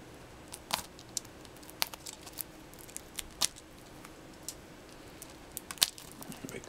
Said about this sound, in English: I have to unwrap it again. Let me get my knife.